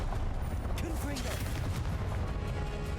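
Confringo fire-spell blasts in Hogwarts Legacy on PC, a run of sharp cracking bursts over constant battle noise, with brief tonal whooshes.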